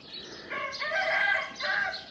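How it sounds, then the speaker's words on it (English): A rooster crows loudly and nearby, one drawn-out harmonic cock-a-doodle-doo with rising and falling notes and no one talking. "I think Kiwi got a new rooster. He's really loud."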